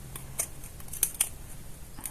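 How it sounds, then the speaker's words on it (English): Dull scissors snip through material for a Yakult ring craft in a rapid series of short, crisp cuts, close and fairly loud with uneven spacing and no talking. "cut using our scissors"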